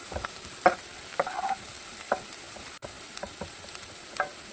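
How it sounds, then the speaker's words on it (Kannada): Onions frying in hot oil in a pan for an Udupi-style crab curry make a soft, continuous sizzle. Sharp spoon scrapes and taps come at intervals, close but fairly quiet, with no talking. "ಈಗ ಈರುಳ್ಳಿ ಹಾಕ್ಕೊಂಡು ಸ್ವಲ್ಪ ಫ್ರೈ ಮಾಡ್ಕೊಳ್ತಾ ಇದ್ದೀನಿ"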